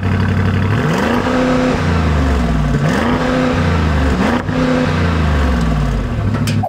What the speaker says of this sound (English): I'm gonna play you some clips now of the exhaust